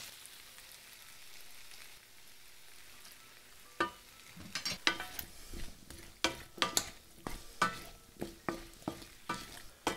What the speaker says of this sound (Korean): 이렇게 한 1분만 이렇게 볶아주겠습니다